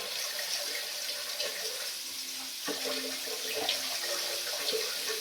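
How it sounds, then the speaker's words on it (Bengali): Tap water runs steadily into a kitchen sink while pointed gourd is washed by hand, with faint splashes and clinks during home cooking; the flow is moderate and fairly quiet. "এখানে পটলটা ধুচ্ছি"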